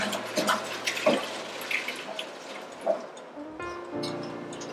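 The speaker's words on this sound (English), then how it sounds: "Strain the water off." Cooked pasta water for an inside-out lasagna pours off into a kitchen sink, a close, splashing gush with bumps and clatter that settles into a steadier running flow.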